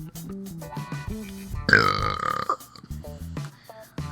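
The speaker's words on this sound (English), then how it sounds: "my talent is burping" A long, loud, gurgling burp erupts mid-clip, close to the microphone, surrounded by brief bits of a young voice talking.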